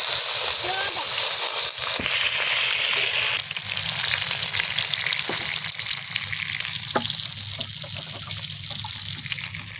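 Fish frying in a pan of oil in an outdoor village cooking setting, a steady dense sizzle running throughout at close range, with a few scrapes and clinks and people talking over it.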